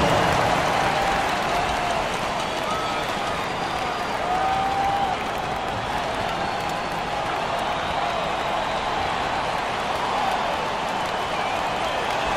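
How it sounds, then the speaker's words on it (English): Simulated arena crowd in an NBA 2K25 basketball game, Milwaukee Bucks vs Utah Jazz, with sustained, loud applause and crowd roar running evenly throughout. "Give yourself a round of applause."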